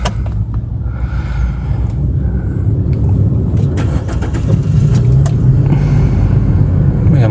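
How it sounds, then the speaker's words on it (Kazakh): A car engine idles steadily while warming up, a close, loud, continuous low rumble with faint clicks and ticks above it and no talking. "машинамызды қыздырамыз"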